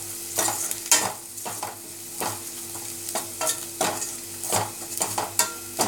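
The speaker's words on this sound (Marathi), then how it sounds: "चांगलं परतलं की मग आपण त्यामध्ये आपला टोमॅटो घालूया." Red chilli powder, turmeric, garam masala and asafoetida frying in a pan for a Maharashtrian shev tomato curry, with a steady sizzle and about a dozen distinct scrapes of a spoon stirring at a regular pace, close and moderately loud.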